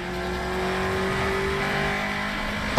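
A Honda K20 engine revs hard and holds at high rpm as VTEC engages, a loud, steady, buzzy howl with a sharp click near the end and no talking.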